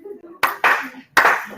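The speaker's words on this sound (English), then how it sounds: "I love how you guys clap." Small group clapping in short bursts, three separate rounds of applause close by with pauses of quiet between them.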